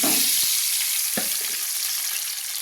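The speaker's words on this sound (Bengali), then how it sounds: "ডিমগুলো ভাজতে দেব।" Duck eggs frying in hot oil in a wok produce a loud, steady sizzle with a couple of brief clunks early on, close up and without any voices.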